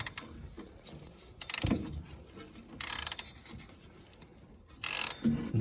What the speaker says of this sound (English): spin the socket until you feel it engage